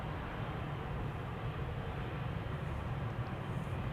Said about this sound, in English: Leon says Coast Guard coming in to land.